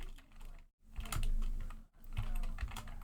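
Fast, close keystrokes on a computer keyboard clatter in steady bursts while entering HTML code, with two brief pauses between runs of typing.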